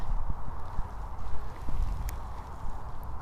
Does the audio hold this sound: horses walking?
yes